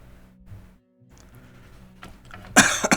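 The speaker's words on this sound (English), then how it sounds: "Sorry to cough." A single short, harsh cough bursts out near the end, louder than the quiet rustling before it.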